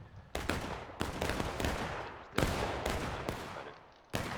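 Musket gunfire from a War of Rights match at Piper Farm cracks out as a series of loud, sharp shots, roughly six irregularly spaced reports each trailing into a long echoing decay, with no voices.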